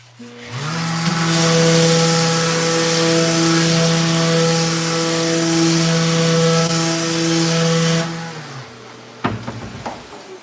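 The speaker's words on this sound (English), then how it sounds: "Sanded that one, I gotta sand the next." A power sander works on a kitchen base cabinet door, a loud, steady whining drone that holds for about eight seconds before cutting off, followed by a few clattering knocks.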